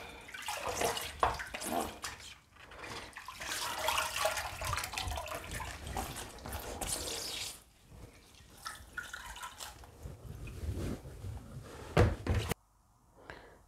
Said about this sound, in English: we are done with the washing